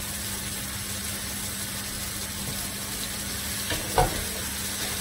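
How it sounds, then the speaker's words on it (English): Onions frying in a pan for chicken tikka masala give a steady, fairly quiet sizzle throughout, with a brief clatter of a utensil near the end and a constant low hum underneath. "So the onions are cooking away"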